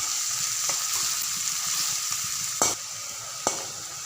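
Onions sizzle steadily in a frying pan, browning under a continuous hiss with a couple of sharper clinks of stirring and no talk.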